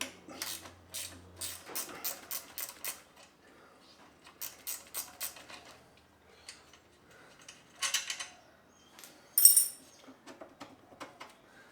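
A ratchet clicks in quick bursts while loosening the brake lever on a Yamaha XV1000 Midnight Special motorcycle, with rapid tick runs broken by quiet pauses and a few sharper metallic clinks near the end.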